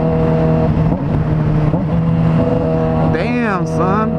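A car engine revs hard while the driver rev-matches without the clutch, a loud, droning roar that swells and then climbs sharply in pitch near the end, with voices talking over it.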